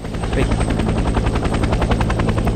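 Huey helicopter rotors thump in a loud, steady beating drone with a constant engine whine in the war strategy game Vietnam '65.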